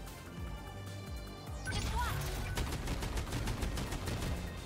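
Weapons fire in 13 Sentinels: Aegis Rim, starting with a rumbling background and then breaking into rapid repeated shots and explosions that grow louder halfway through.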